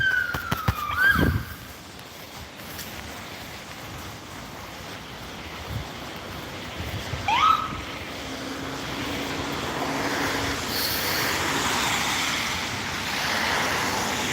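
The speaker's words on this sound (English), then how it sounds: "Oh, it's an ambulance." An ambulance siren wails by outdoors, rising and falling in a couple of short sweeps over a steady wash of wind or surf.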